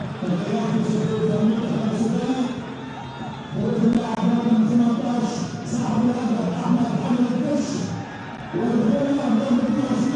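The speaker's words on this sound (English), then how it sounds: "the applause that they so deserve." Stadium crowd at an Africa Cup of Nations match between Mali and Guinea-Bissau applauding substituted players, a broad distant roar of clapping and voices that swells and dips beneath continuous commentary.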